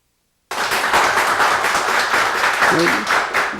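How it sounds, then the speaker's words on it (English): Applause from scholars and parents in the first cohort of a scholarship program, starting abruptly after silence and continuing as a steady, full, close-sounding burst of clapping with some voices mixed in. "You hear all that applause?"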